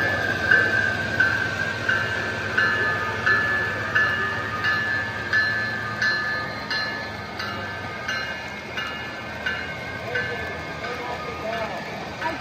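A 70-car model freight train runs at a railroad show, its steady rolling rumble broken by a regular clatter of wheels over rail joints, with a hum of hall noise underneath and occasional voices.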